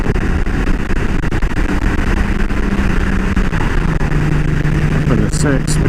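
A 2018 Honda Goldwing motorcycle in sport mode and fifth gear, its steady engine drone and road roar continuous throughout, with someone talking over it and a shift in pitch toward the end.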